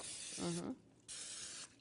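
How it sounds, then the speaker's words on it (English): Two short bursts of cooking spray hiss onto the top and bottom plates of a waffle iron in a kitchen, each lasting about half a second and heard close. "spray the top and bottom with some spray"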